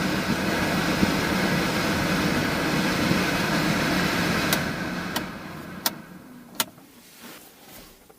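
Cabin heater fan in a Vauxhall Combo blowing strong, a steady loud whooshing roar that drops away after about four seconds, followed by several sharp clicks and knocks inside the car.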